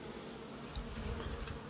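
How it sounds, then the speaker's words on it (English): Honeybees buzzing around a beehive, a steady close drone of many insects in flight that swells slightly louder partway through, with no voices. "How many bees are here and also flying around the air?"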